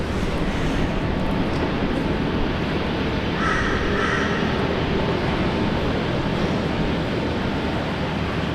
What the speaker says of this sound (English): Tim saying finally some engine noises